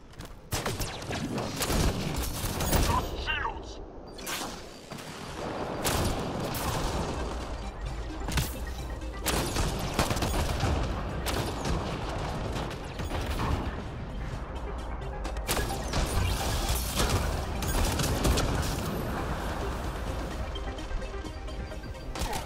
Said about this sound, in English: Let's freeze them and give them a good old concussive shot.